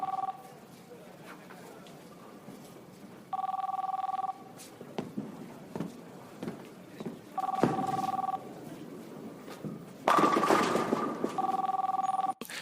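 A telephone rings in a scene from The Big Lebowski, with repeated two-tone bursts of about a second each separated by pauses, clear and moderately loud amid background scene sounds and occasional voices.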